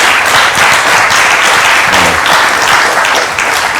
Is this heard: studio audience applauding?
yes